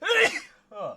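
A loud sneeze bursts out up close, followed a moment later by a shorter, softer exhale or second sound, with a brief voiced exclamation mixed in.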